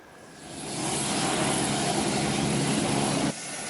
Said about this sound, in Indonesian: Jupiter Aerobatic Team dan 7 pesawat tempur F-16 akan melakukan atraksi di udara